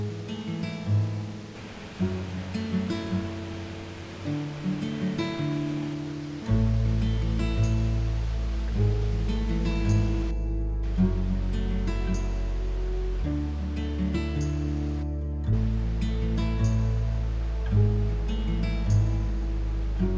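Waterfall with clean, clear water beside the road to Milford Sound in New Zealand: a steady broadband rush of falling water plays under a loud musical soundtrack, with no voices.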